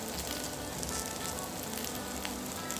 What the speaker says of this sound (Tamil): நம்ம போட்ட வெங்காயம் வந்து கொஞ்சம் பாதி வதங்கிடுச்சு. அடுத்து நான் வந்து மிளகு சேர்த்துக்கிறேன்.